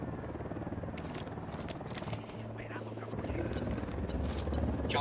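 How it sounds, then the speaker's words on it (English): Helicopter in a Ghost Recon Wildlands firefight approaches with a steady low rotor drone and rising loudness, mixed with scattered crackling game noise and voices speaking. "Chopper inbound."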